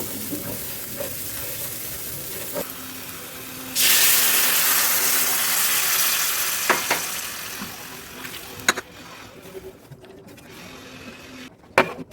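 Loud steady sizzling and hissing bursts up as water hits hot frying spice paste in a karahi for fish curry, then gradually settles into a quieter bubbling with a few clinks.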